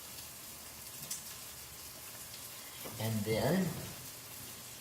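An omelet cooks in a pan with a faint, steady frying sizzle in the background, and a voice speaks briefly over it partway through.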